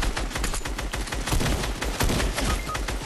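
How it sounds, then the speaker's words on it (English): Gunfire in the video game Fortnite, with loud, dense, rapid bursts of shots overlapping one another continuously with no pause and no talking. "Trying to snipe you."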